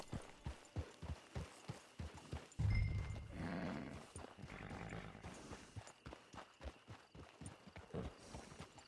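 Horse hooves clip-clop at a steady gallop in Red Dead Redemption 2, loud and close, with a short burst of heavier rumbling partway through before the rhythmic beats carry on.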